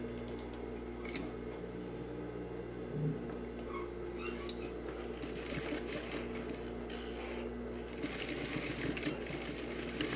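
Sewing machine stitching a sleeve seam along a fold from the corner of a puffed sleeve, a soft steady hum with light ticking clicks, close but quiet, running continuously with a few sharper taps.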